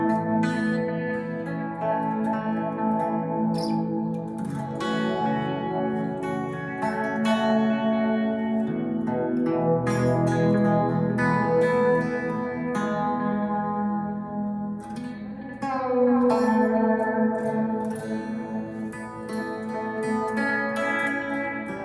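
Clean electric guitar tone played through a Headrush Core modeler with stereo reverb, sustained chords and single notes ringing with a wide, spacious wash, steady and loud with no talk.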